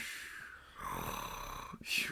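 A man imitates snoring with drawn-out, breathy snores, a long rasping inhale and a sharper snort at the end, close and fairly loud over a steady hum.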